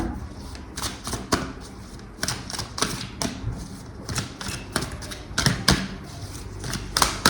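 Tarot cards being shuffled and drawn in a quiet room, with a rapid run of papery riffles and flicks and scattered soft taps close by, no voices.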